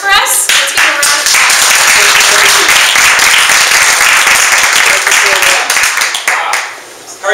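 Loud, sustained applause from an audience at a women's business launch event in San Jose, dense clapping filling several seconds before tapering off at the end.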